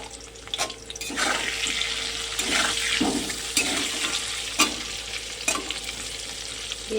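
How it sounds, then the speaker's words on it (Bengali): Potatoes sizzle in hot oil in a pan, seasoned with salt and turmeric, while a spatula scrapes and stirs them in intermittent strokes, steady frying hiss throughout and no voices. "এবার এটাকে ভালো করে নেড়ে ছেড়ে আমি আলুটাকে ভাজা ভাজা করে নেব, একটু লাল লাল করে ভেজে নেব।"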